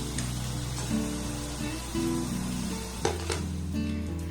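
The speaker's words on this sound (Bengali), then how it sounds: "এবার দেখুন কিছু পকোড়া আমি এইভাবে চিটে করে ভেজে নেব।" Vegetable pakoras made with winter vegetables deep-fry in hot oil, giving a steady close sizzle with faint clinks of a utensil beneath continuous tonal background sound.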